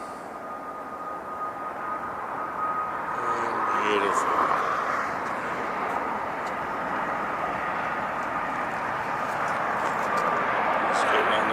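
A Lufthansa Boeing 747 lands at LAX with a loud sustained engine roar and rushing wind noise that swells slightly, while someone talks over it.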